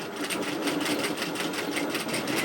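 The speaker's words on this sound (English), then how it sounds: "I'm top stitching this at 1/4 of an inch, which is foot width, or 5 or 6 mil." A sewing machine top stitches fabric for a loyalty card wallet, running as a steady, rapid, rhythmic stitching chatter, close and continuous throughout.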